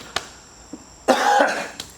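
A sick person lets out one harsh cough near the middle, with a few faint clicks and small breathy sounds around it in a quiet room.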